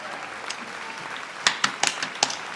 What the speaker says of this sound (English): Hold the applause, please.